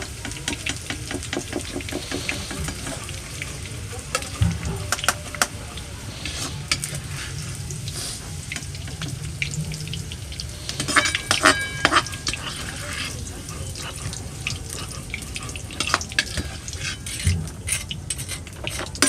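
Continuous sizzling of carrots frying in a pan, with frequent scraping and clinking of a utensil stirring, close up.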